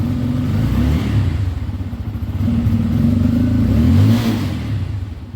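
A BS6 motorcycle engine with an ignition fault revs under light throttle, a close, loud, rough mid-pitched drone that swells and eases with a slight clatter, no voices.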